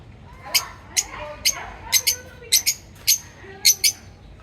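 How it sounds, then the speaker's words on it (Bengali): Pet birds kept indoors chirp in short, sharp, high-pitched bursts, often in quick pairs, close and clear over a quiet background hum. "আমি আমার পাখিগুলো খুব কিচিরমিচির করছিল"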